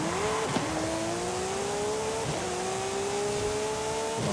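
A GT3 race car in Forza Horizon 5 roars at steady high revs, its engine note sliding in pitch as it brakes hard and shifts, loud and continuous with no talking.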